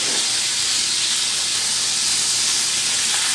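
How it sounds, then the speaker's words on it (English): Peppercorn steak sears on its edge in a hot pan, a loud, continuous, close sizzling hiss that holds steady throughout with no voices. "Sear on the edge."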